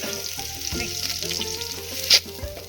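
Chopped onion sizzles steadily in hot oil tempered with cumin and mustard for a soybean gravy, a close, constant crackling fry with occasional scrapes and clinks of a stirring spoon.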